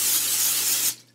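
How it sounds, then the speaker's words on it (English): Cooking spray hisses from a can onto a baking pan readied for a sourdough loaf, one steady spray for about a second before it cuts off. "So I'm going to go ahead and spray the pan."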